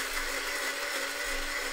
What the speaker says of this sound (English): We're gonna hit the coffee grinder